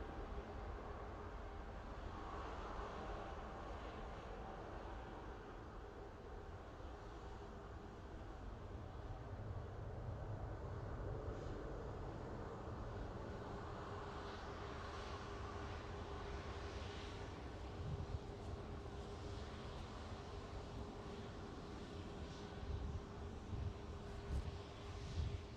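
An easyJet Airbus A320neo on its takeoff roll at Manchester Airport, a sustained distant jet roar that swells gradually and stays fairly faint, with no voices.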